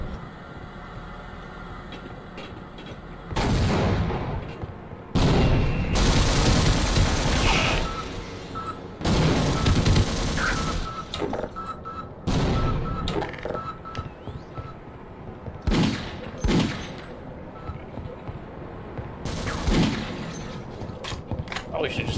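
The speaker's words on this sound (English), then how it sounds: "With just like giant battles, with just tons of aliens and Marines shooting each other." Gunfire in a Half-Life battle between aliens and Marines, coming as loud bursts of rapid shooting separated by quieter gaps, with someone talking in between.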